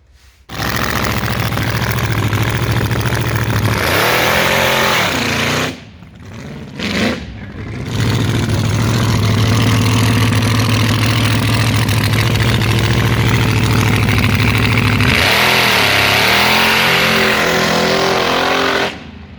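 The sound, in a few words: 1000 horsepower car engine roaring while revving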